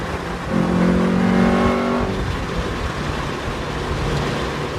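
An EM1 Honda Civic Si with a VTEC engine revs up while driving, a rising engine note for about a second and a half that then drops back to a steady cabin rumble.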